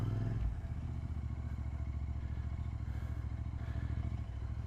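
A Continental motorcycle with its fairing kit removed, ridden at a steady pace with a continuous low engine drone and a faint rattle throughout, close and loud with no talk.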